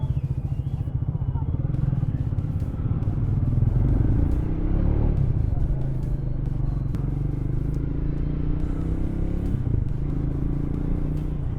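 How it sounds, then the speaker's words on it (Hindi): A Triumph Speed 400 motorcycle engine revs and pulls away up close, its throaty rumble rising in pitch as it accelerates, with clattering road noise throughout. "थ्रोटल लेते ही बाइक भागने लग रही है"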